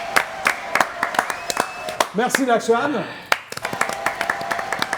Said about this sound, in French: Applaudissements pour Mathilda.